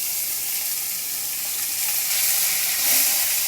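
Onion and garlic frying in mustard oil, giving a steady, close, bright sizzle and hiss that holds throughout with no talking.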